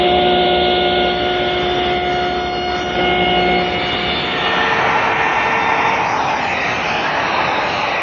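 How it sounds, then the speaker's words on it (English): A panel cutter saw squares up the bottoms of wooden panels for a folding screen, a loud continuous whining roar close by that shifts in tone as the blade cuts through. "Here again, you can see the advantages of a panel cutter."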